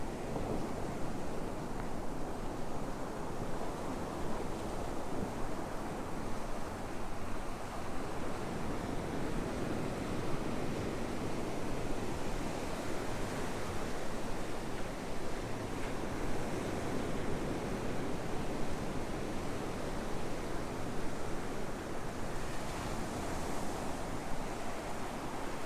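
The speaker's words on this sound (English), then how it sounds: "Just have a few moments of quiet to listen to the ocean." Ocean surf rolling onto Myrtle Beach near the state park pier, a continuous broad wash of breaking waves mixed with wind rush against the microphone, steady and unbroken with no voices.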